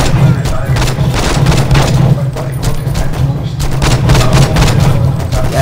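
Rapid gunfire in the video game Saints Row 2, dense bursts of shots crackling continuously at high level with a player talking over it.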